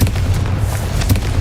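Confringo fire-blast spell exploding in the Hogwarts Legacy video game, a short deep boom with low rumbling bursts, loud and close.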